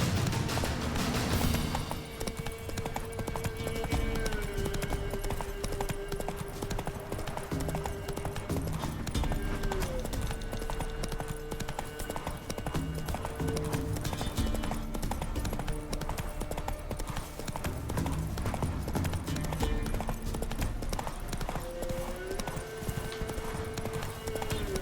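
Horse hooves clip-clop in a steady rhythm throughout during a ride in The Witcher 3, with game music and ambient sounds playing underneath.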